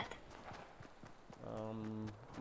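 A horse gallops in the video game Fortnite, a quick run of clip-clop hoofbeats heard fairly faintly while a person talks nearby.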